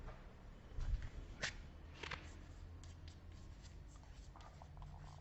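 Maths problems written out by hand, faint scratchy pen strokes in short bursts over a quiet room, with light rubbing and no talk.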